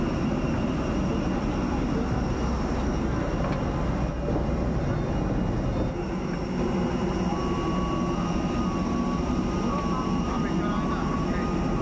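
Airplane cabin and engines while boarding, a constant low roar filling the clip with a few faint tones and brief shifts in the hum.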